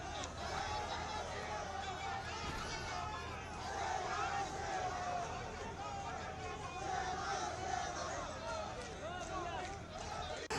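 A huge crowd mills at a roadside election rally, dense continuous babble and shouting with movement noise, fairly distant and unbroken throughout.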